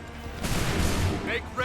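Musket volley fired on command in Assassin's Creed III Remastered, a single broad crackling blast that swells and lingers briefly, with faint voices around it.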